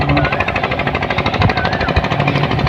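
A boat engine runs with a steady, rumbling knock, loud and close, with faint whining tones over it.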